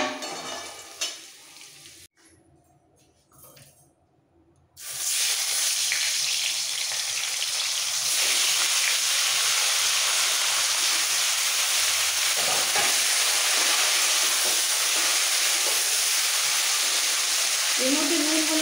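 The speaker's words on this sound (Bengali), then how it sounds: "এবার এই তেলের মধ্যে দিয়ে দেবো ফুলকপিগুলো" Cauliflower florets hit hot oil left from frying potatoes for khichuri, bursting into a loud, steady sizzle after a quieter start; the crackling frying noise holds strong and continuous to the end.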